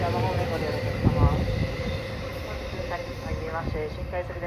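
A JR Kobe Line train rumbles into the platform at Maiko Station, a steady mechanical roar beneath a station public-address announcement.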